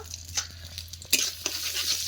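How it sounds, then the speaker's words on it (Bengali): Soft sizzling of crushed garlic in oil in a wok-style pan, with intermittent scraping and stirring clatters, quiet and close, no talking. "এই কড়াইতেই তেল দিয়ে দিলাম এবার দিয়ে দেবো রসুন থেতো"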